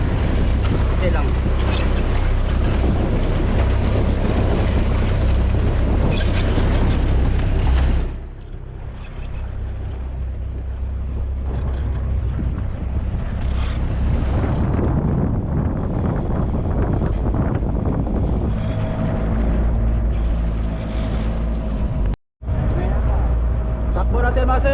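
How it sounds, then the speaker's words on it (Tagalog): Heavy wind roars over a boat moving through open water, with waves and a steady low rumble throughout; a voice speaks briefly under the noise. "Minor lang tayo at malakas ang hangin."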